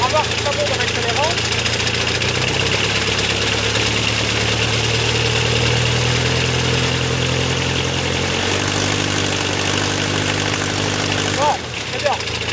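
A Superpony small engine runs steadily and loudly close by, its droning pitch stepping up as it accelerates, with a brief dip near the end.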